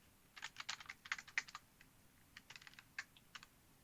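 Quiet typing on a computer keyboard: two bursts of rapid, uneven key clicks with a short pause between, close and fairly soft, no voices.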